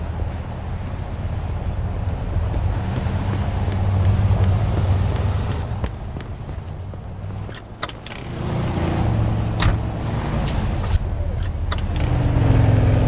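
A car drives in Mafia II, making a steady engine rumble and road noise with wind-like hiss throughout, loud and close, and rising slightly near the end.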